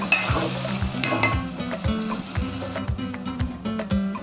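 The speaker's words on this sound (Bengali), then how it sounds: "এতে দেবো আমি 2 চামচের মতো ভর্তি করে ঘি। পেঁয়াজগুলোকে একটু ভেজে দেওয়া হবে।" Onions fry in ghee in a pan, with a rhythmic series of sharp knocks and scrapes from stirring over a soft sizzle, close and fairly loud, repeating roughly every half second.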